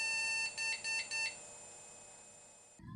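A computer's POST error beep code: four short, evenly spaced electronic beeps in quick succession, followed by a steady high-pitched whine that continues on its own. No one speaks.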